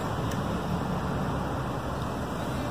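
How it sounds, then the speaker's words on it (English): Wind buffets the microphone outdoors on a very windy day, a soft, steady rumbling whoosh that fills a few seconds with no voices. "I apologize for the wind."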